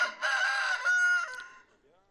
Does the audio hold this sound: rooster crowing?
yes